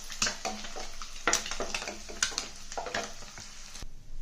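Eggs fry in oil with turmeric in a pan, giving a close, steady sizzle with bursts of crackling and stirring clinks, no talking.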